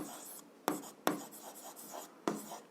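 Pen or marker strokes writing out an algebra solution on paper, close and quiet, with scratchy bursts and a few sharp taps as new lines begin.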